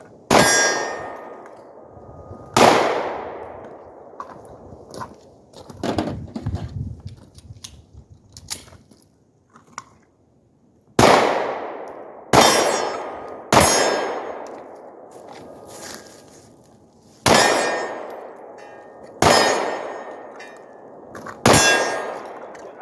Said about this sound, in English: Definitely shooting a lot better now